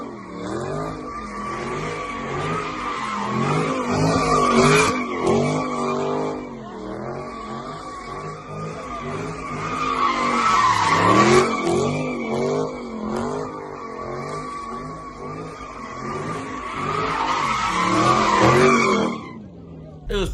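A Dodge Scat Pack drifts in first gear, its engine screaming near redline in loud rising and falling surges while the tires skid and squeal, swelling to three peaks over a steady roar.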